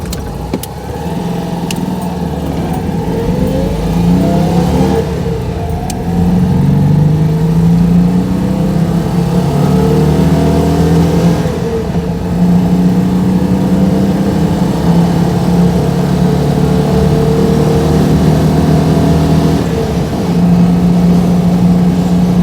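A car called Elly driven hard, its engine revving and climbing through the gears with rising and falling pitch sweeps, loud and close from inside, no one speaking.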